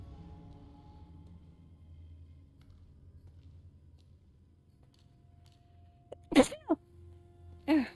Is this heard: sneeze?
yes